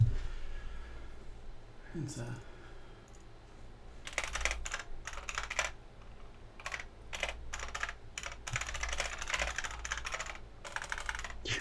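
Bursts of rapid clattering keystrokes on a computer keyboard, close and fairly steady, stopping and restarting several times over a quiet room with low background hum.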